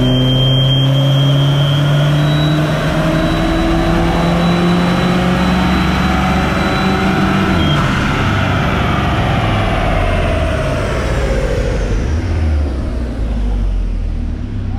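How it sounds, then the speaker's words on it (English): A 2.4 turbo PT Cruiser with a catless downpipe runs hard on a dyno, the engine loud and close as it climbs steadily through the revs in one long sustained pull. "We put it on the dyno."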